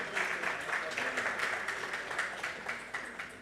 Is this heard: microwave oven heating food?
no